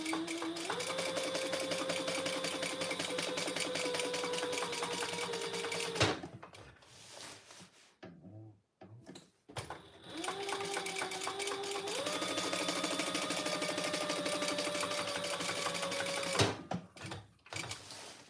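A sewing machine back stitches along the edge of vinyl on a travel case, two sustained runs of fast mechanical stitching with a brief pause between them, close and loud.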